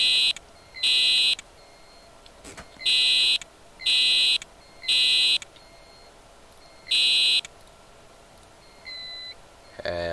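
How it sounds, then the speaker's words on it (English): A Firecom 8500 fire alarm in a Roblox building sounds in repeated loud electronic horn blasts, each about half a second to a second long with gaps, followed by a fainter beep near the end. "it's also a Firecom fire alarm"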